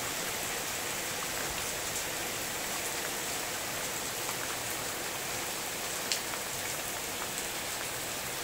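Rain falls steadily over rural countryside in Estrela de Alagoas, a dense even hiss of drops with occasional faint nearby taps, soft and unbroken, with no voices.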